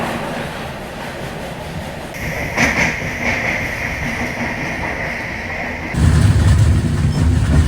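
The Matsyagandha Superfast Express rumbles through a tunnel on the Konkan line during a monsoon journey, a steady rail roar with a brief metallic squeal and a heavier surge near the end.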